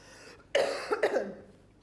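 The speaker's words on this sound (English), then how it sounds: "I've got a coughing fit coming on here" Someone coughs twice in quick succession, close to the mic, with some raspy throat noise trailing off after each burst, set against a quiet room.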